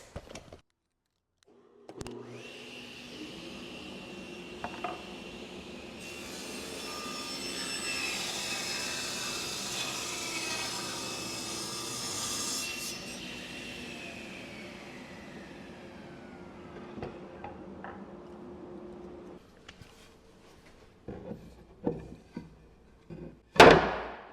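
A power saw rips lengthwise through a wooden board for an elevated garden planter, a long steady whining cut lasting about eighteen seconds that rises in the middle, followed by clunks and knocks as the wood is handled.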